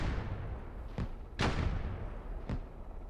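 In DCS World, a clip-loaded infantry fighting vehicle cannon fires three separate heavy, booming shots, spaced irregularly over a low rumbling background.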